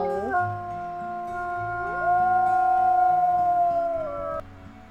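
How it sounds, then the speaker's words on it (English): A wolf in the video game WolfQuest: Dragon Pack gives one long, loud, sustained howl that rises in pitch and holds steady before breaking off, with a lower whimpering voice under it and no talk. "Do a little howl."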